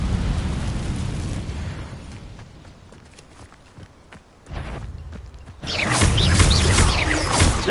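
A fire spell cast in the video game Hogwarts Legacy, rumbling crackling bursts with mechanical clatter and footsteps, ending in a loud roaring whoosh of flame.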